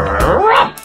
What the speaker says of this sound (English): The dog got angry and barked loudly.